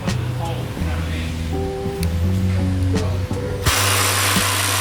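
Power drill boring through a car lift inside a diesel repair shop, whining in steady stepped bursts with shifting pitch, close and loud, ending in a harsher broadband grinding burst.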